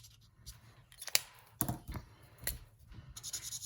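Scissors cut out a paper piece for a child's artwork in several quiet, separate snips and rustles at close range, with paper handling between cuts.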